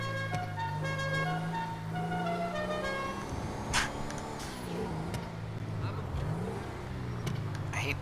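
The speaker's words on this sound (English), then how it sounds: "I hate the sound of the turbo in this thing" A car's turbocharged engine in the GTA Online video game holds a steady drone with rising and falling revs and whooshes, while someone talks over it throughout.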